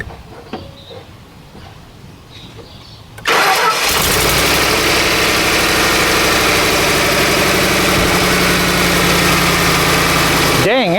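A car engine cranks on a jump starter and catches after a few seconds of quiet, then settles into a loud, steady idle that runs to the end.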